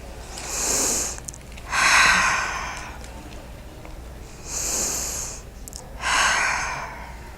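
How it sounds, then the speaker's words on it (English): Four deep breaths come close to the microphone in an even rhythm, a long inhale then an exhale, repeated twice with short pauses between, breathy and unvoiced. "take 3 deep breaths"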